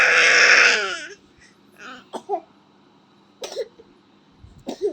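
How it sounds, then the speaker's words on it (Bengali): A baby lets out a loud crying wail, then a few short, sharp coughs and whimpers come in separate bursts at close range. "এবার কাশি হচ্ছে তো?"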